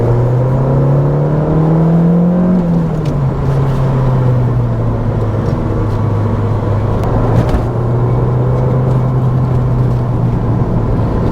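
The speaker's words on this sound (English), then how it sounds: "The 2-litre engine's really revvy" The 2-litre engine of a Renault Clio 197 hot hatch revving while driving, a loud continuous engine drone that climbs, then drops as revs fall, holding steady under road and wind noise.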